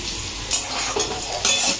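Steady, loud sizzling of food frying in a pan, with a few scraping stirs breaking through the continuous crackle.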